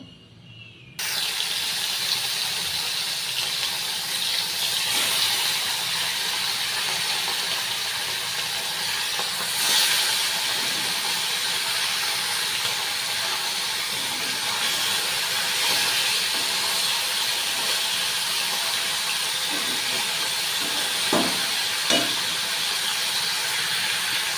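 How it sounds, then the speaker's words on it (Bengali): Fish fry in hot oil in a kadai with a steady, loud, sputtering sizzle that runs unbroken throughout, dotted with a few faint clicks. "এদিকে কড়াই গরম বসিয়েছি কড়াইতে তেল দিয়ে দিয়েছি আর মাছগুলো ভাজা করে নেবো"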